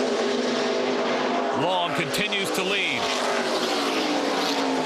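NASCAR K&N East race cars at Watkins Glen braking and downshifting into a turn, several engines whining and rising in pitch as they pass close by, under a commentator's voice.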